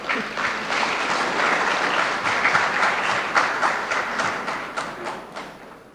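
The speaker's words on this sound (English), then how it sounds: "Another round of applause for Mrs. Rita Akoto Coker." An audience at a memorial event claps in sustained applause, a dense, loud patter of many hands that holds steady for several seconds before easing slightly at the end.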